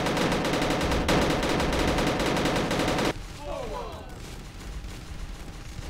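Gunfire in the World War II shooter Uprising 44: The Silent Shadows, loud dense bursts of rapid shots for about three seconds, then stopping abruptly, leaving quieter background sound with a brief chirping whoosh.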